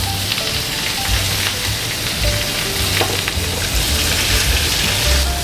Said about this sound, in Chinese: 这样子去晃动锅子，让那个油啊，它有跑到鱼的每一个角落，每个地方都要被煎到